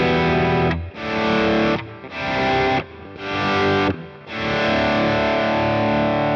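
Distorted electric guitar through a Boss Katana amp with Slow Gear volume swell effect, four chords fading in softly and rising to full loudness, the last held and ringing, with no delay.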